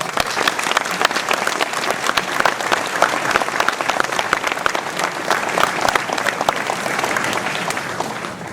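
An audience at a mayor's New Year address in a town hall applauds the police forces, a dense, steady wash of many hands clapping loudly throughout, with no break.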